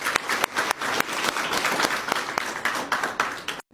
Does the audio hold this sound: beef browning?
no